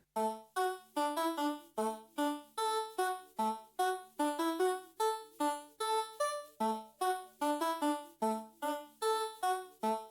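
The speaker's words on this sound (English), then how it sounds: "He uses a lot of sort of like synthesized and heavily processed voice sort of tones." A synthetic, heavily processed vocal-like tone layer in a hyperpop style plays a rhythmic sequence of short, repeated notes with swelling attacks, bright and buzzy, steady throughout with no talking.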